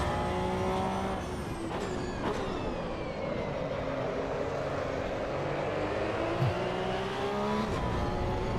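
A race car engine in Assetto Corsa EVO, a cup car, drones steadily up close, pitch rising and falling through gear changes, with a high whine layered over the roar.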